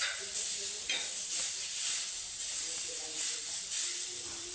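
Chili powder sizzles while heating in a hot pan, a steady bright frying hiss with faint stirring scrapes, no talking.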